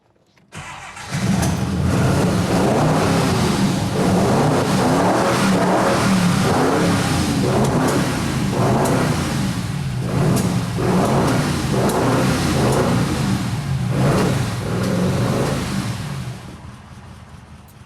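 A Mirage production prototype car, built as it would be on an assembly line, starts up and settles into a steady, close, loud engine run with rhythmic throbbing pulses that continues for about fifteen seconds before cutting off.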